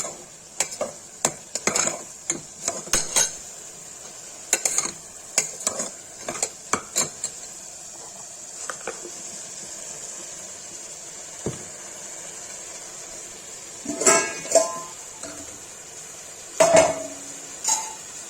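A spoon stirs green pea soup with turmeric and garam masala in a metal pot, giving irregular clinks and scrapes in quick bursts with quieter pauses, close by and without talk.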